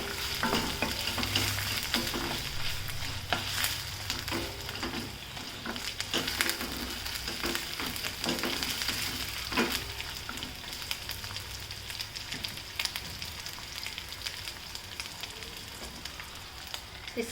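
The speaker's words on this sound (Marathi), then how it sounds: "अद्रक लसणाची पेस्ट घालायची. चांगलं परतून घ्यायचं." Ginger-garlic paste sautés in a pan for a dhaba-style rajma masala, making a continuous close sizzle and frying crackle with frequent stirring scrapes and taps throughout.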